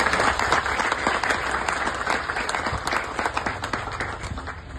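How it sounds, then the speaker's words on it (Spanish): Audience applause for a town mayor at a Dominican tourism ministry event launching public works, steady dense clapping from a sizable crowd that fades slightly toward the end. "quiero pedir un aplauso para el alcalde Eduardo Esteban."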